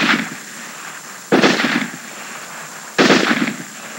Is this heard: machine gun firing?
yes